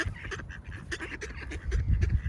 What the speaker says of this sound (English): Come along, ducks.